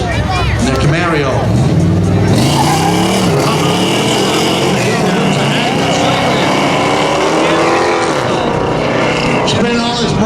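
Chevrolet Camaro in street legal spectator drag racing at a dragstrip, engine roaring loud and sustained with a rising pass, crowd babble and an announcer's voice mixed in.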